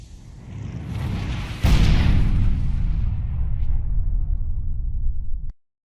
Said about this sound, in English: the fireball spell can be cropped to sound less like a spell and more like a catapult lobbing explosive shot